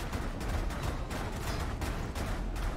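Enemy mob cannons in Path of Exile fire in a dense, continuous barrage of thuds and blasts, loud and busy throughout with no talk.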